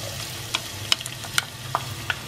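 Onions frying in a pan for a spicy chicken masala, a soft steady sizzle under a few sharp scraping clinks as the spoon stirs, close and moderately quiet, no speech.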